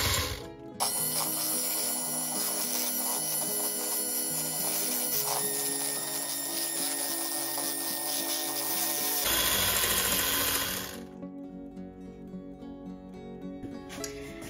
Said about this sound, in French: je vais mélanger les jaunes d'œufs avec le sucre. Et pour cela, je vais utiliser mon robot.